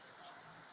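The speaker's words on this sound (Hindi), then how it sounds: "काफ़ी तेज बारिश है।" Heavy rain falling as a steady, faint broadband hiss, distant and unbroken for the brief moment, with no talking.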